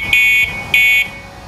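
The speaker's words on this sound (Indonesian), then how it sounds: "di bawahnya lagi ada klakson yang suaranya kurang lebih seperti ini." Two short, shrill electronic horn beeps from an electric bicycle sound close up, evenly spaced, with quiet between them.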